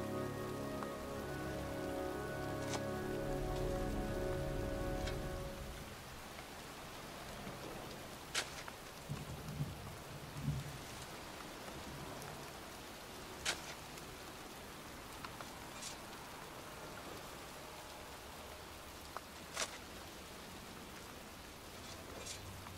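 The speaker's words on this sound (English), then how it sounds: "It's cold, it's raining, I'm standing outside getting soaked." Steady rain falls outdoors in the Heavy Rain video game, a dense even hiss with occasional louder drips, after a low rumbling swell fades out early on.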